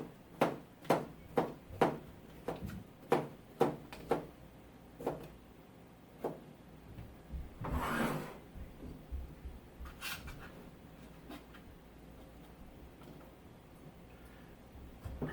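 A knife chopping a bell pepper on a cutting board in a home kitchen, with a quick run of sharp, evenly spaced chops, then a scraping sweep and sparser, quieter cuts.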